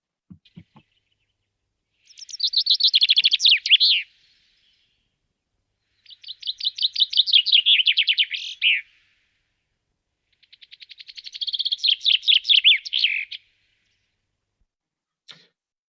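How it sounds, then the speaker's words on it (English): A chaffinch sings in woodland at dawn, three clear accelerating phrases each ending in a flourish, separated by quiet gaps, fairly close and alone against silence. "The Chaffinch's song is often characterised as a fast bowler in cricket, accelerating up to the wicket to deliver the ball"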